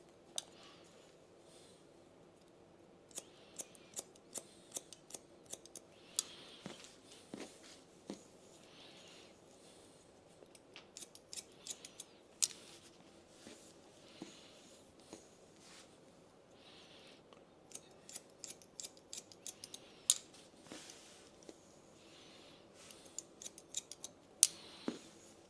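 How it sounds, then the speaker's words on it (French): Hairdressing scissors point-cut a man's graduated bob, making crisp, faint snips in irregular clusters close up. Quiet pauses fall between the bursts of cuts, with no talking. "Je viens poser ma lame contre le doigt. Et je viens couper en piquetage."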